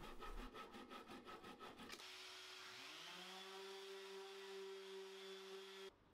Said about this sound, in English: I use the pull saw to trim off those plugs